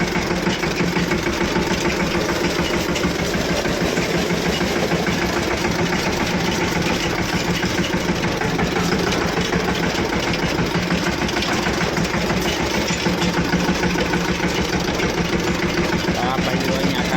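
A tractor engine runs steadily and loudly throughout while being driven across sand, a continuous mid-low drone with a rough knocking texture, with voices talking over it.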